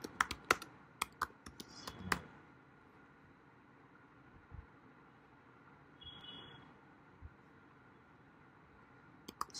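Sparse bursts of keystrokes on a computer keyboard while entering network commands, quick clusters of clicks early on, then scattered isolated taps over a quiet room hum.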